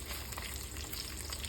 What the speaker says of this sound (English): I really enjoy sitting over a sizzling pan